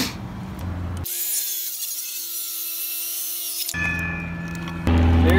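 Circular saw making a bevelled seat cut through framing lumber for a chimney cricket, a loud high whine cutting steadily for about three seconds, with quieter shop noise before and after.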